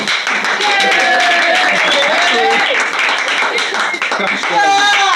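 An audience at a live comedy show claps and cheers loudly for a performer being introduced, dense sustained applause with voices and whoops rising above it.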